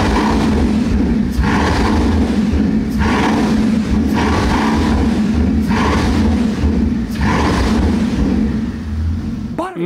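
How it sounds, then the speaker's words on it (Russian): A Bugatti Chiron Super Sport hypercar revving hard several times in a row, each loud throttle blip rising and dropping off in a regular rhythm close to the microphone. "Послушайте, как газует Chiron Суперспорт."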